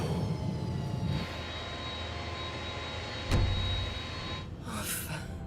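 Airplane landing, a steady jet engine drone with a sharp thump partway through, then a brief burst of hissing near the end, alone without talk.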